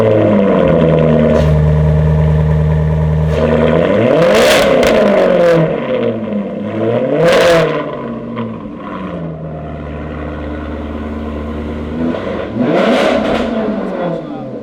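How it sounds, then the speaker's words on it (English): A Maserati MC with a Urutu X-Pipe exhaust revs up hard several times, rising and falling blips of a loud, raspy engine close by, with idle between the revs and no talk over the engine. "Get to hear the Urutu X-Pipe on the Maserati MC."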